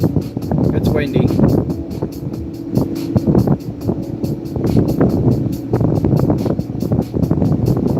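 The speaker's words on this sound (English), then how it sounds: "It's windy." Gusty wind buffets a nearby microphone in rough, rumbling bursts, mixed with a running engine.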